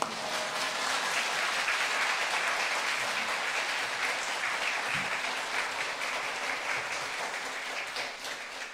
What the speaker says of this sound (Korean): 이러한 환영의 인사와 함께 힘찬 박수로 목사님을 맞이하겠습니다